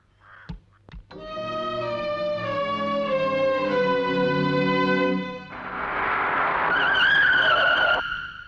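A car skids to a stop in the middle of a road with a long, loud tire screech that shifts into a harsher rising squeal before cutting off, preceded by a couple of sharp knocks.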